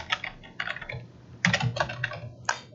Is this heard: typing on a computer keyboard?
yes